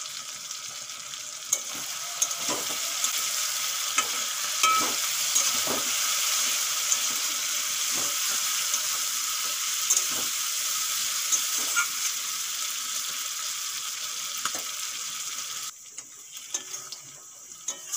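Broiler chicken frying in a pan, a steady, moderate sizzle with regular sharp spatula taps and scrapes, briefly quieter near the end.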